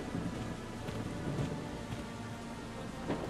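A rainstorm with thunder in the video game Valkyria Chronicles 4: dense, steady rain hiss over a deep rolling rumble, continuous and fairly quiet with no voices.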